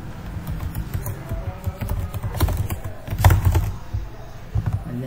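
Steady computer keyboard typing, a run of quick soft key taps with irregular rhythm and a few louder strokes, close by and alone without speech.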